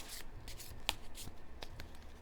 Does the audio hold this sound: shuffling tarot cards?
yes